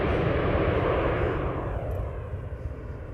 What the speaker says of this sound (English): Cathay Pacific, Flight 270 going to Hong Kong, A350-1000